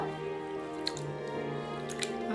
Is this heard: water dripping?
yes